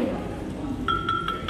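Unfired raw Plered ceramic ware being tapped, giving a few quick, dull clinking taps with a faint ring, heard behind steady background noise and low talk.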